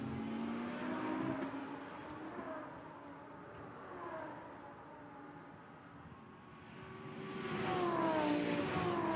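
A Lamborghini Super Trofeo race car drives through the Tosa corner at Imola during a race. A loud engine roar rises, dips as the car brakes into the turn, then climbs again under acceleration, with other traffic faintly behind it.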